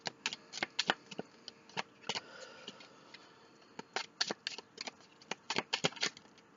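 Tarot cards shuffled by hand, a steady run of sharp, close riffling snaps and taps with short pauses, heard alone.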